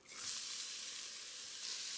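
Bacon fat melting in a hot pan gives a steady, bright sizzle that swells quickly and holds evenly, close and fairly loud, with no talking.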